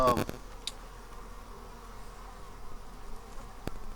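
Honey bees buzz steadily around a hive after a Formic Pro treatment, a continuous near drone of many insects, opening with a short clatter of handling noise and a faint click later on.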